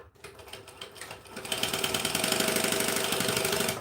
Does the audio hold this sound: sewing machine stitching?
yes